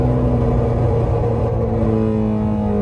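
A car cruises with its engine at a steady, loud low drone and a faint rising note, heard from inside, with no talking.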